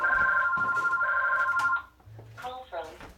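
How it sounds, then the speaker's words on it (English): A telephone rings in a home kitchen with a bright electronic warble for about two seconds, then stops; someone speaks briefly afterward. "And there goes the phone."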